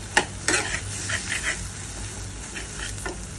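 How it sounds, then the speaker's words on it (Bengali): Sliced okra dropped into a hot pan for a Bengali chorchori, bursting into sharp sizzles as it lands, then scraped and stirred with a spatula in short scratchy strokes close by. "এবারে ঢেঁড়সগুলো দিয়ে দিচ্ছি। ভালো করে নাড়িয়ে নেব।"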